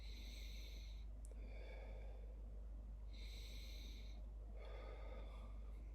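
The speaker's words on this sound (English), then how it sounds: "I'll try chest breathing first" A person practises chest breathing as a breathing exercise: three separate breaths, each a soft, airy rush heard close up and alone over a steady low hum.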